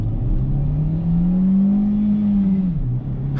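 A Renault Clio 3 with a 1.2 petrol engine and automatic gearbox revs at full throttle, a loud steady engine drone climbing slowly in pitch, then dropping briefly near the end as it settles.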